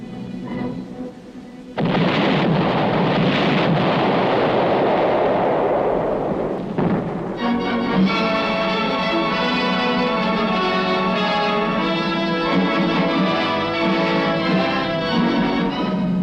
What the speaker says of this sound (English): the infantrymen prepare to blast the Reds from still another hilltop with coordinated fire and high explosive shells